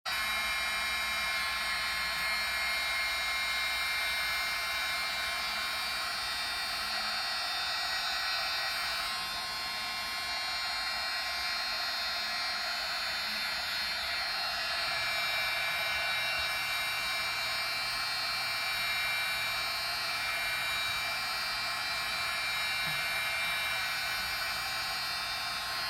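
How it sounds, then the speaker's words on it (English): A heat gun runs continuously with a steady, loud fan whir and high electric hum, its pitch shifting slightly partway through. "heat gun's much hotter than a dryer"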